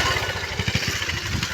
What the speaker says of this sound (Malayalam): ചേട്ടൻ ബൈക്ക് ഓടിച്ച് വരുന്നുണ്ട് വെള്ളത്തിൽ കൂടെ.